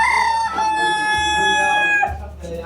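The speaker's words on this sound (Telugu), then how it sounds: "డిఫరెంట్ టైప్ కోడ్లు ఉన్నాయి." A rooster crows loudly and close among clucking chickens at a busy Nagaland market where fowl are sold for meat. The long strained crow rings over low background noise and market bustle.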